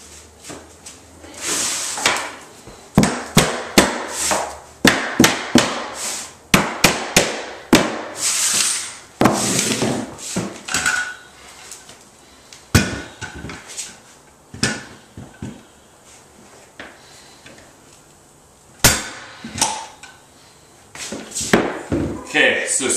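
Hardwood floor cleats are driven with a flooring nailer, giving a run of sharp, loud percussive bangs in irregular bursts, close by, with a person talking between the blows.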